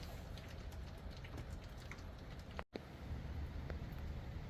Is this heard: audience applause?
no